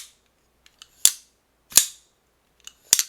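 A Shirogorov Quantum pocketknife with a stonewashed finish flips open three times, each a sharp, crisp metallic snap preceded by faint clicks, close and clear in quiet surroundings.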